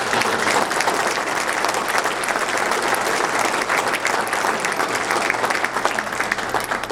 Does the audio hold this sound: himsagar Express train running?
no